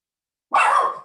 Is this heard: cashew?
no